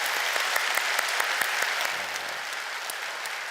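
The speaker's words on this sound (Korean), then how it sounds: "오늘 수고한 모든 분들에게 다시 한번 박수로 격려하겠습니다" Steady applause from a church congregation at an Easter service, dense clapping with crisp individual claps popping out, holding evenly and easing slightly toward the end.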